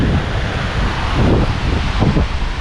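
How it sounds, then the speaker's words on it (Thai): Strong night wind gusts at a campsite by a waterfall buffet the microphone in a loud, continuous roar that swells and eases, with no voices. "ลมค่อนข้างแรงเลยทีเดียวนะ"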